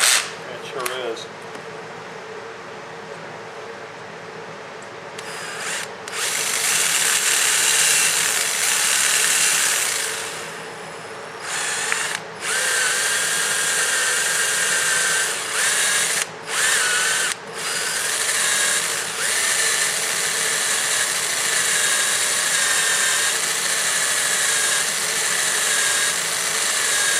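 A worn electric drill whines loudly in several runs, starting and stopping with brief pauses, its motor buzzing close by; faint talk appears near the start.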